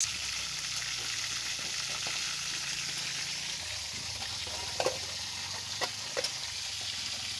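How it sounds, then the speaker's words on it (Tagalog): Steady crackling sizzle of tilapia frying in hot oil, with a few louder pops and clinks of a utensil now and then. "magluluto tayo ng tilapia. Prito yan guys."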